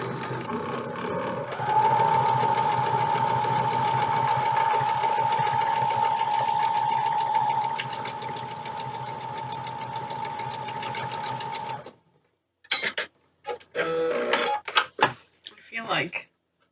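A sewing machine stitches cotton quilt pieces in a steady, close, continuous whir for about ten seconds before stopping, after which a voice speaks in short bursts.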